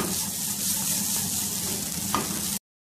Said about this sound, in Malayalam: പെരിഞ്ചീരകം മഞ്ഞൾപ്പൊടി കറിവേപ്പില ഇതെല്ലാം ചേർത്ത് നന്നായിട്ട് ബ്രൗൺ നിറമാവുന്ന വരെ നമുക്ക് തേങ്ങ വറുത്ത്